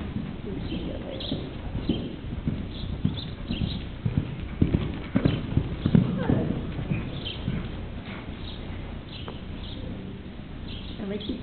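Chestnut mare being ridden, her hooves clip-clopping in a steady, soft rhythm throughout, with faint birdsong and people talking nearby in the open air.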